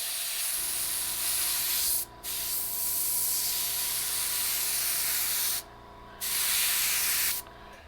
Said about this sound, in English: And usually I spray it about 30 psi.